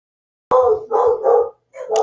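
A dog barks close by in a few quick bursts, three or four loud barks in about a second and a half with a brief pause before another starts, no talk over it.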